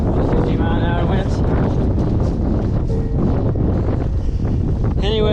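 Strong gusts of about 50 mph roar over a summit ridge on Mount Eisenhower in the Presidential Range, a loud, continuous buffeting rush of wind against the microphone with no break.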